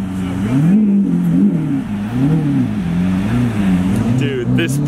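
Car engine revving repeatedly while a driver works the clutch to ease into a diagonal parking spot, rising and falling engine tones close by, with people talking over it.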